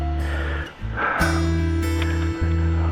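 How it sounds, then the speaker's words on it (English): Tree limbs scrape and knock against a truck in a few sharp bursts, heard over the steady, loud drone of the engine. "There's one of them limbs hitting my truck."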